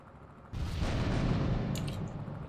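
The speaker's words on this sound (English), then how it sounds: "I'll fire one more rocket" A rocket launches in GTA3 (Toughened Mod) with a sudden blast, then a steady roaring whoosh that lasts about two seconds.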